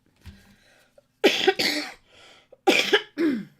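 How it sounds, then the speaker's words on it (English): Several harsh coughs close up, in two bursts of two or three each, separated by a short quiet pause. "Excuse me for the coughing"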